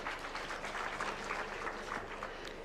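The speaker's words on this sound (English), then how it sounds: "let's clap for them" Audience clapping at an East African MSME trade fair, a steady, fairly faint patter of many hands lasting a few seconds.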